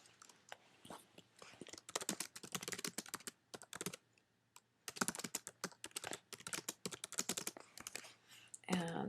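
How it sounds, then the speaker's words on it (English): Typing on a computer keyboard, close and clear: bursts of rapid key clicks with short pauses between them, including a brief gap midway, with faint background hum. "So I click my text tool and begin typing with number 1."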